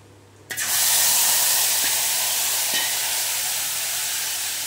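Cumin paste and chili paste drop into hot oil and burst into a loud, steady, close sizzle that holds evenly with a couple of faint stirring taps and no talk.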